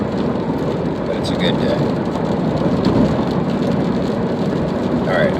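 Steady, loud rain and road noise fill the cab of a vehicle moving at 60 miles an hour in bumper-to-bumper truck traffic in Indiana, a constant wash with no breaks.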